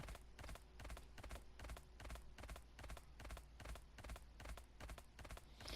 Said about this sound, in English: And the horse goes from 0 to run with no in between.